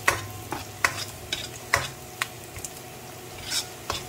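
Ginger stirs in coconut milk and oil in a pan for a fish stew, with repeated scraping strokes of a spoon over a soft steady sizzle, heard close and alone.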